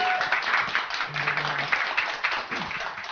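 Audience applause welcoming a Japanese peace and anti-nuclear activist onto the stage at a Korean talk event, a dense, steady wash of clapping from a crowd lasting the whole moment.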